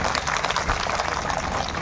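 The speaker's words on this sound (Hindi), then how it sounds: "जोरदार ताली बजा के स्वागत करिए।" Audience clapping to welcome a new party member at a political gathering in Sitapur, a dense, steady wash of applause from many hands, loud and continuous without breaks.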